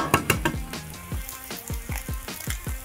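Chilies fry in a pan with a close, crackling sizzle, and a run of quick popping bursts settles into a steady, rhythmic spattering.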